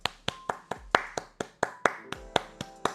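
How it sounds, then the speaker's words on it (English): A small round of applause for a coding project that fixed itself, heard as about a dozen distinct sharp claps in a steady, sparse rhythm, close and fairly loud, with no talk. "can we get a round of applause for Bobby here?"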